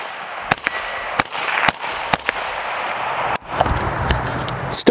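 A suppressed AR-15 rifle fitted with an H4 buffer weighing 6.8 ounces fires about six sharp, close, irregularly spaced shots, each a muffled crack followed by mechanical clatter, with no talking.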